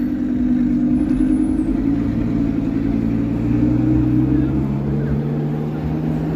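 A loud, rumbling supercar exhaust drone holds steady throughout on a downtown Toronto street, its low pitch sliding gradually downward as the car moves along.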